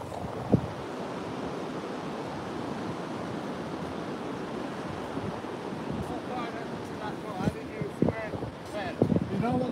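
Ocean surf rolling onto a beach where surf fishing is underway, a steady broadband wash with wind buffeting the microphone throughout.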